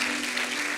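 A church congregation applauding during a celebration service, a dense, even wash of clapping from many hands lasting under a second.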